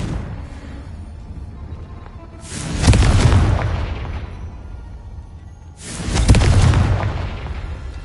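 Two heavy booming blasts from the Confringo spell in Hogwarts Legacy, each a loud burst that swells and then fades, with a low rumbling background between them.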